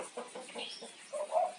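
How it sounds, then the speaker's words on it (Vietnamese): A roughly 3 kg fighting rooster clucks close by in a short series of quick, clipped calls, ending in a louder, higher squawk. "Gà nuôi đá cỡ 3 kg mốt, 12 gì được."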